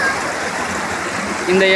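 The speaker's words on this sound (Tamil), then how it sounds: "இருந்து வரக்கூடிய ஒரு ஆறு. இந்த ஆற்று பேர் கல்லாறு." The Kallaru river rushes through a forest, heard as a steady, close wash of flowing water over a brief moment, with a faint tonal sound near the end.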